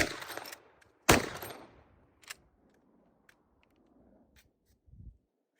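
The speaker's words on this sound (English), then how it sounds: "the more I'm shooting this Marlin" Marlin 45-70 lever-action rifle firing outdoors, two loud sharp reports about a second apart, each trailing into a decaying echo, followed by faint clicks and rustles.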